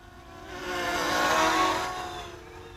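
A 3D X6 quadcopter's motors spool up to full throttle, a rising buzzing whine with layered tones that swells to a peak and eases back, heard alone at moderate distance.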